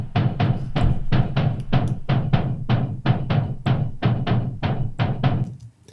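Heavy, dark techno bass synth pulsing in a steady driving rhythm, each hit a short noisy burst with a deep low end, loud and continuous.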